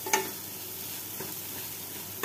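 Khichuri rice, fried with tempering spices, is stirred in a wok: a faint steady sizzle with a few sharp scrapes and taps of the spatula against the pan, quiet and close, with no voices.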